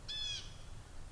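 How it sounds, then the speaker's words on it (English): A hawk calls once in a garden beside a flower box, a short, high, harsh cry with a slight quaver, fairly close, over a steady low outdoor rumble with no one talking. "that's the hawk."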